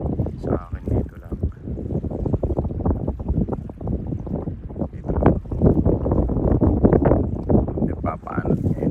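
Strong wind at sea on a small boat, a steady, loud, low buffeting roar against the microphone that swells and gusts throughout with no clear voices.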